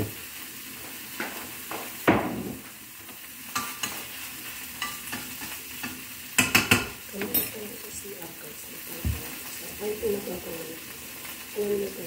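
Tomato sizzles gently in a hot pan at breakfast, stirred with a utensil that scrapes and clinks against the pan in irregular bursts over a constant low frying hiss, close up.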